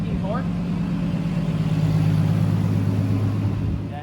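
Nissan 370Z fitted with a 1JZ-GTE engine drives along with a steady, droning engine hum and road rumble under a voice, the engine note holding even throughout.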